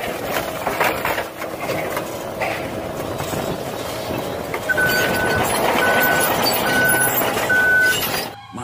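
Large excavator working at a sand truck site gives a loud, steady machinery rumble with rattling, and a series of evenly spaced reversing beeps sounds over it partway through.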